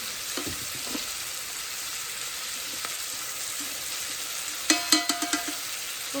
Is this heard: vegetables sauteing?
yes